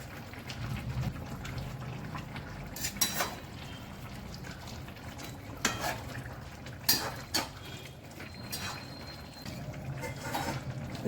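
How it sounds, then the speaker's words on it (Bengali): Rohu fish pieces going into a pan of curry broth with potato and cauliflower, faint sizzling and bubbling liquid sounds with a few soft clatters, quiet and close. "এবার আমি মাছগুলো দিয়ে দিচ্ছি"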